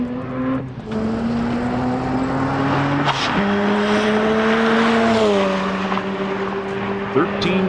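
A street car launches off the line at a 2001 street car challenge, its engine roaring loudly and rising in pitch with gear changes and brief tire noise, while a voice talks over it.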